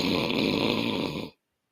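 A man imitates snoring with his voice, one drawn-out rasping snore that holds steady and then cuts off abruptly into silence.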